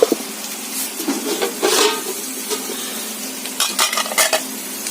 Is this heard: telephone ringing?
no